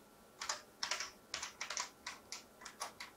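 Keys clacking on a vintage computer keyboard as a passphrase is typed: about a dozen crisp, close keystrokes in uneven bursts, some in quick pairs, over quiet background.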